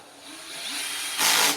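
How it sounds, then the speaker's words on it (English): A cordless power drill with a torque setting briefly whirs as it drives screws into a Hoover vacuum cleaner during a repair. A single short, loud burst comes near the end over a steady background hum. "my drill has a torque setting on it so that I don't over tighten these screws"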